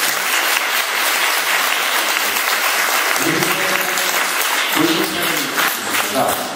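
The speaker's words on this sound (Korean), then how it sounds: "이럴 때 박수가 필요합니다." Sustained applause from a lecture audience of university students fills the room steadily, dense and even throughout, with faint voices murmuring beneath it near the end.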